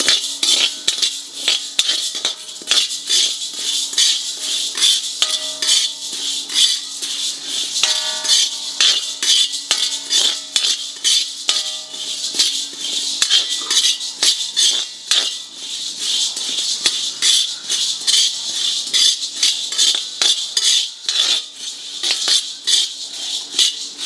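Chana dal (split chickpeas) is dry-roasted in a pan, the spoon scraping and clinking against the metal in a busy, continuous rattle of lentils stirred close up, with no speech.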